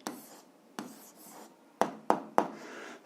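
A pen scratches across paper in short strokes, with a few sharper taps of the tip, close and quiet, while someone works through an algebra answer.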